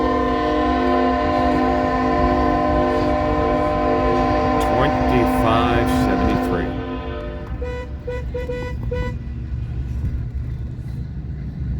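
A Union Pacific freight train heading east through Fremont, Nebraska, sounds long, loud horn blasts up close, then its rolling rumble and clatter carry on as the cars go by.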